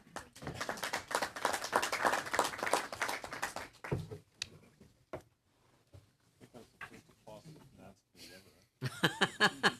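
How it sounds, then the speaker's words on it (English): Applause at a parliamentary Finance Committee meeting, a burst of dense clapping from a room of people lasting a few seconds, followed by scattered claps and talk, with more clapping near the end. "He said he thinks that's the first applause at Finance Committee ever"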